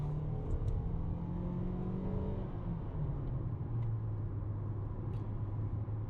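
2021 Toyota RAV4 accelerating in sport mode, a steady engine drone rising and then settling lower as it shifts, heard from inside the cabin over road rumble, with no talk.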